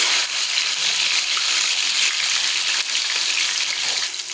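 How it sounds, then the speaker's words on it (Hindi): Sindhi-style fish fries in hot oil, a dense, steady crackling sizzle heard up close and fairly loud throughout, with no talking. "तो जी फ़िश हमारी फ्राई हो चुकी है दोनों साइड से"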